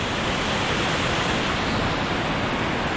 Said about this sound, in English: The Mohawk River going into the Barge Canal.